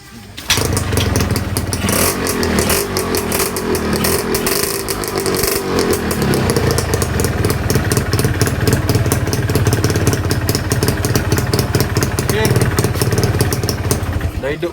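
A Yamaha RXZ motorcycle with a newly restored catalyser starts up and settles into a loud, steady two-stroke idle with clattering revs, close by, while people talk over it.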